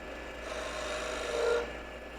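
Skew chisel cutting a spinning workpiece on a wood lathe, a steady close rasping scrape that swells slightly toward the end before easing off.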